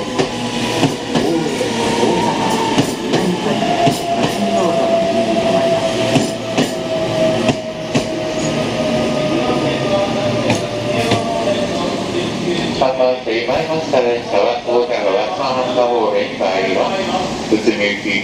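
Meitetsu train pulling into the platform at Jingu-mae station in Nagoya, a loud, continuous rumble with wheel squeal and rhythmic rail clatter as it slows, with station announcements heard over it.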